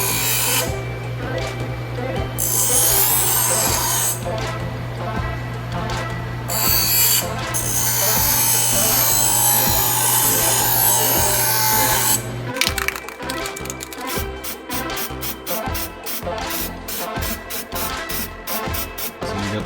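A power tool cuts out a metal LS engine extension plate for a Datsun 280ZX with a sustained high whine and grinding for about twelve seconds, then shifts to choppy, stuttering bursts of cutting, close and loud throughout.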